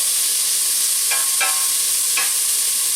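Sausage fries in a pan with a loud, constant sizzle close by, and a few brief spoon scrapes or stirs rise above the frying hiss.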